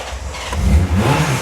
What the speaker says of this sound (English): Of course it starts, it's a Honda.